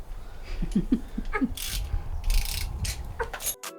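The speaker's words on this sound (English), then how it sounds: "Using my specially engineered extender wrench, we managed to reach the two bolts at the top of the gearbox" An extender wrench works the top gearbox bolts on an R32 Skyline GTR during a twin-plate clutch swap, giving close bursts of ratcheting clicks and metallic clunks, then scraping and handling noises before a sudden cut.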